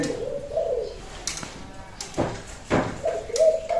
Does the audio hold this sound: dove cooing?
yes